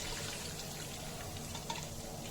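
Ground yogurt and onion paste added to mutton trotters and bone frying in a pot, producing a soft, steady sizzle with faint stirring and liquid sounds, fairly quiet and without speech.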